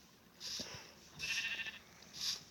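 Sheep in a video game bleat three times at an even spacing, with short, fairly faint, nasal calls and quiet gaps between them.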